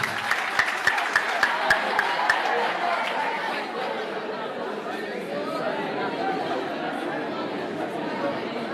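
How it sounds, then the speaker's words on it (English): At a school debate between ES Rusumo and GS Paysannat, a crowd of students gives a short burst of clapping for a speaker that fades quickly into a steady murmur of talking across the room. "We clap for him, please."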